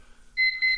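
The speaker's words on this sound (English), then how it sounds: "There's the timer." Kitchen-style timer going off with a bright electronic beep, two short high-pitched tones in quick succession, loud and close in an otherwise quiet room.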